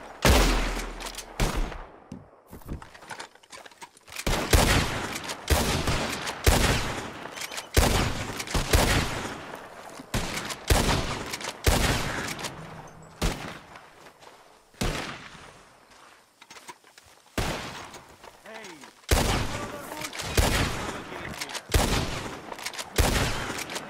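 Repeated gunfire bursts from a Red Dead Redemption 2 shootout, loud volleys of shots arriving in rapid clusters with brief gaps, near and dominant throughout.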